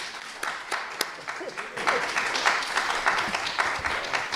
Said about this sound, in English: Let's give a round of applause for our candidates here tonight.